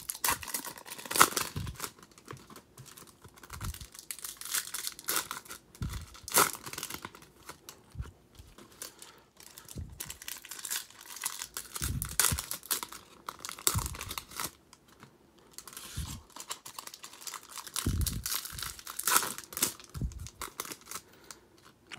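Cardboard and foil packaging of a 2022 Topps Chrome blaster box being torn open, a long run of bursts of ripping, crinkling and crunching at close range, with short pauses between tears and no talking.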